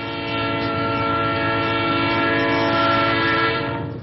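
Freight train passing close and loud, its horn sounding one sustained blast across the whole stretch over rumbling wheels, fading slightly at the end.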